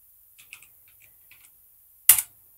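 Keys tapped on a computer keyboard while a command is entered in a Linux boot prompt, several soft, close, irregular clicks, then one sharper, louder keystroke near the end, with no voices.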